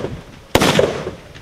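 A single sharp rifle shot cracks out nearby at a military police shooting training, followed by a brief echoing tail fading into outdoor quiet.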